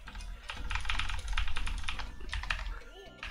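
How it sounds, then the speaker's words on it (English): Rapid clattering keystrokes on a computer keyboard during a gaming speedrun, dense bursts of close, fairly loud clicks over about three seconds, with a voice faintly present underneath. "You're gonna hear my keyboard a lot though."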